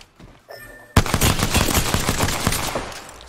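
Automatic gunfire in the video game Apex Legends breaks out suddenly after a quiet moment, a loud, close, rapid stream of shots that holds steady for a couple of seconds before easing.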